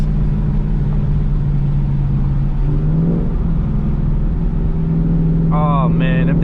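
A 2018 Ford Mustang GT with a new aftermarket exhaust, a loud deep engine drone that rises and falls through revs and downshifts, heard close with a voice talking over it near the end.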